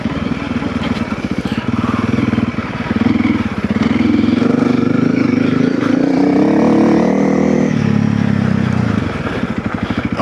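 A Honda CRF300L dual-sport motorcycle with stage 1.5 modifications pulls hard through the gears, its single-cylinder engine loud and close, rising in pitch, easing briefly at each shift, then climbing again.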